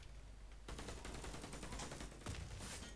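Sustained automatic gunfire in the online shooter Warface, a dense rapid stream of shots starting abruptly and continuing steadily, with one louder burst near the end and no talk.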